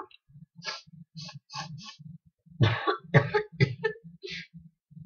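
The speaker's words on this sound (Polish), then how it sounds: "Drobny kaszel, trochę mnie gardełko boli." Several sharp coughs in a burst, close to the microphone, over a steady rhythmic clicking pattern that runs throughout.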